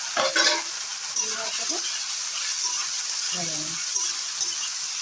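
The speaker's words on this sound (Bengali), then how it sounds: "তো এবার একটু তেলটা বেশি দিতে হবে, দিয়ে ভেজে নেব।" Spiced soybean chunks frying in a generous amount of oil in a kadai, a continuous bright hiss and sizzle up close with a few stirring knocks scattered across.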